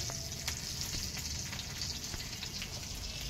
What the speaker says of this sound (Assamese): এটা পিঁয়াজ কাটি লৈছোঁ আৰু সেয়া মাছ ভজা তেলখিনিতে দি লৈছোঁ কেঁচা জলকীয়া